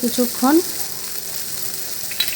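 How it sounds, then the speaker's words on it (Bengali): Tomatoes sizzle in a pan with a steady hiss throughout, a couple of stirring scrapes near the end, and brief voice-like tones at the start. "তারপর আমরা টমেটোগুলো ছেড়ে দেব। টমেটোগুলো দিয়ে একটু নাড়তে হবে"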